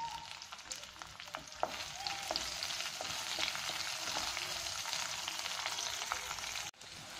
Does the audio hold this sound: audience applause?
no